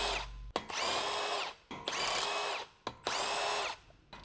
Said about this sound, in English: Use the large 19mm deep socket with the large electric impact wrench. Remove all the lug nuts.